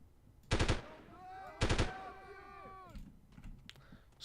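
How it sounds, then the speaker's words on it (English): Gunfire in the 1998 video game Delta Force, two loud short bursts about a second apart, each followed by ringing echoing tails, then fainter scattered sounds. "Someone shot me."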